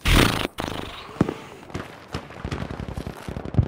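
Grenade blast in Battlefield 5 during a milsim-style match, a loud broadband boom at the start followed by scattered gunfire cracks and radio chatter-like voices in a busy battlefield mix.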